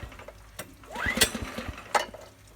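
Small engine, previously choked to start, sputters with uneven mechanical knocks and clatter plus brief bursts of noise, its idle rough and irregular, close by.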